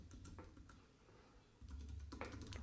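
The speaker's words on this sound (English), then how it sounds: "So now I'm going to type in my text" Light, quiet clicking of computer keyboard keys as text is typed, a few scattered taps followed by a denser flurry near the end.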